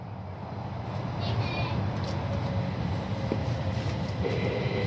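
Stockholm metro train on the line toward Skarpnäck pulling out of a station: a steady, loud rolling rumble with faint clicks and a brief high whine, with no talk heard.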